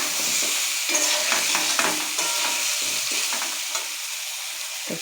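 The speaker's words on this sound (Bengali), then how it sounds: "সয়াবিনটাও ভাজা হয়ে যাবে আর আলুটাও তো ভাজা হয়ে যাচ্ছে।" Soybean chunks and potatoes fry in hot oil while being stirred, a continuous near sizzle dotted with quick utensil scrapes and knocks, no voices present.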